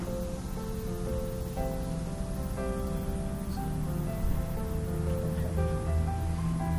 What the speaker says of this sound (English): Just fill it up a little with water.